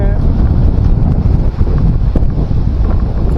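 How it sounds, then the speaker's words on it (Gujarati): Strong storm wind roars across a village in hot weather before rain, a loud continuous gusting rush with buffeting against the microphone throughout. "પવનની આટી અને આંધી આ બંને એટલું વેરું જોરથી અત્યારે સ્ટાર્ટ થયું"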